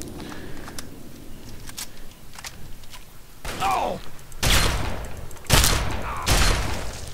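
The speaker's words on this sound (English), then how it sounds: "shooting the people in the head with this thing is awesome" Gunfire in Fallout 3, a gun fired at smugglers near a lighthouse: a few faint early shots, then several loud, close bursts from about 3.5 seconds on, with no talking.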